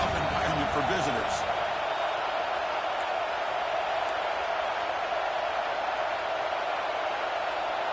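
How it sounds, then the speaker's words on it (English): Stadium crowd at a college football game, a loud, steady wash of cheering and roar filling the whole stretch, with no clear voices standing out. "Listen to the crowd energy here in the early going."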